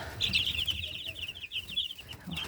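Young chicks and turkey poults chirp constantly in a brooder, a dense, high, overlapping peeping heard close and at moderate volume over a low background hum.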